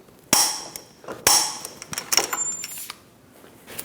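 Hammer striking a punch to stake the axle nut on a 2008-2015 Scion xB front hub, two loud metallic taps followed by a quicker cluster of lighter ringing hits, close up.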